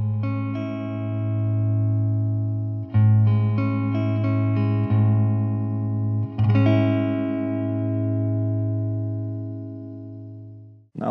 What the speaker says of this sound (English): Now guitar with reverb.